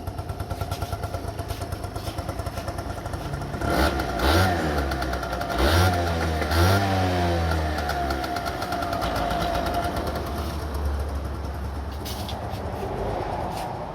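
An engine runs at a steady, loud idle throughout, with a few quick revs pushed up around the middle before it settles back to an even, chugging idle, with no talking.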